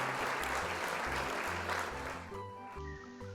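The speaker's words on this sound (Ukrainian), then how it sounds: "Ці оплески для вас." A group of young children claps in a burst of applause in a classroom setting, with light music playing underneath as the clapping fades toward the end.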